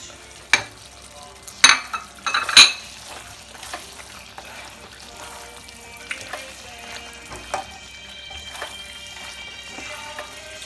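A spoon stirs and scrapes browning meat and spices in a pot of kosha mangsho with garam masala. It gives a few sharp clinks and scrapes against a soft, low sizzle, near and fairly quiet.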